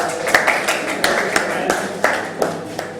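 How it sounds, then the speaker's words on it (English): Scattered hand claps ring out after a hacking demonstration, a brief uneven patter of a few people clapping at close range. "Round of applause for."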